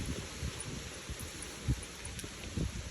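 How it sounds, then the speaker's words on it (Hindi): Strong river wind gusts across the middle of the Ram Jhula footbridge in Rishikesh, with steady low buffeting and rumble and a few louder bursts, no voices. "बहुत तेज़ हवा आती है नदी की"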